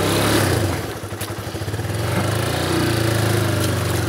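A motorcycle engine labors along a rough stretch of the BR-319 highway in Brazil while the rider stands up on the bike, with a steady close drone and a brief rattling dip in the middle.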